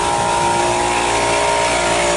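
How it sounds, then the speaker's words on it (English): An air compressor runs during an RV roof repair by a pop-up slide-in truck camper, giving a loud, constant droning hum with an even tone throughout. "Gotta shut the compressor up."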